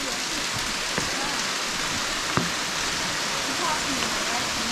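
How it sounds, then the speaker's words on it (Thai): The sixth tier of Erawan waterfall in Kanchanaburi, where water spills as a curtain through the forest, gives a constant, close rushing roar with a few faint clicks. "ทีชั้มโดดเด่นคือน้ำที่ไหลลงมาจะเป็นม่านน้ำไหลผ่านตรงป่าไม้"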